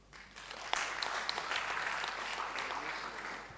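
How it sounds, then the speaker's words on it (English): Applause from a crowd at a director general handover and takeover ceremony, steady dense clapping sustained through the whole stretch at moderate distance, with no talk over it. "And I think this deserves a clap."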